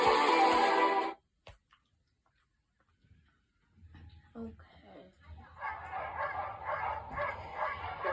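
Sled dogs bark and yip at the start line of the Iditarod in downtown Anchorage, a burst of loud barking up front, then a brief lull before a crowd of excited dogs yelps steadily under announcer speech.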